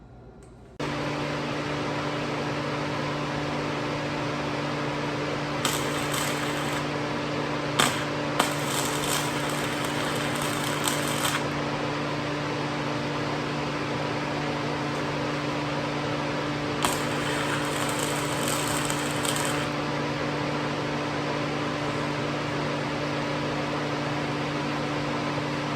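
Tack welding galvanized 16 gauge steel tubing: a steady droning machine hum runs throughout, broken by several short, sharp crackling bursts of the welding arc.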